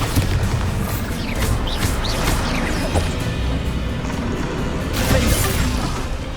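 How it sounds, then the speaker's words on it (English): A Bombarda blast spell in the video game Hogwarts Legacy: a continuous loud roar of booming and crashing impacts, dense and close, with scattered sharp hits and a swell of debris near the end. "Bombarda."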